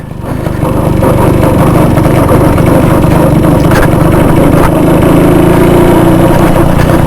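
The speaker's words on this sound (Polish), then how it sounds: "Motorek się spisuje." A 1938 NSU Quick 98 motorcycle engine runs steadily and loudly throughout, a close, continuous buzzing drone, ridden off-road through forest and rough tracks.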